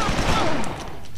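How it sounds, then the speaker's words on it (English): Gunfire in the video game XIII, a dense burst of shots under a voice talking over it, loud and continuous through the short stretch. "someone's shooting at me"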